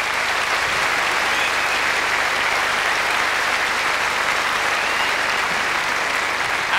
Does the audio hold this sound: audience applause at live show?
yes